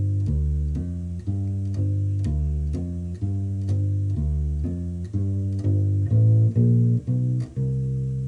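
U-Bass plays a repeating blues bass pattern in low, round plucked notes, with a walk-up of stepping notes near the end leading back into the pattern, steady and close with no talking.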